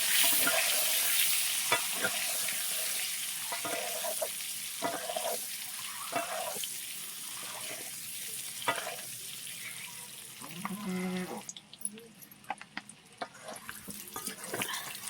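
Eggs fry in a pan with a hissing sizzle, broken by small clicks and scrapes. The sound eases and turns quieter and more uneven near the end.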